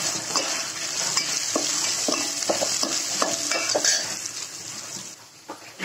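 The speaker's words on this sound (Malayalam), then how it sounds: "ഇപ്പോൾ ഇതൊക്കെ റോസ്റ്റായി." Rava pongal ingredients roasting in a pan, with steady sizzling under repeated scraping and stirring strokes of a utensil against the metal, close and fairly loud.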